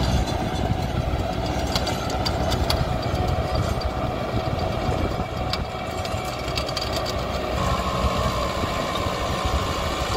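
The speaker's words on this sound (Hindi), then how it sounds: "और भाई वो ट्रैक्टर की आवाज़ इतनी प्यारी है," A Kubota MU5502 tractor engine runs steadily under load with rear 16.9-28 tyres, a continuous loud, close diesel drone with an even rumble and no pauses, heard alone without talk.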